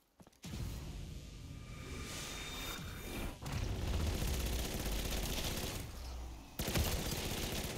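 Rapid, continuous firing from a cannon-like wonder weapon in Black Ops 3 zombies mode, a dense rolling barrage with deep booming low end that runs almost unbroken, briefly dipping before resuming loudly.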